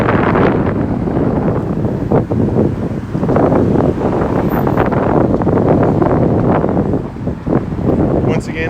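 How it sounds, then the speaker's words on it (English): Gusty wind on a blustery day along a city street, a loud, continuous roar buffeting the microphone, surging and easing in waves for several seconds with no voices. "it is a fairly blustery day"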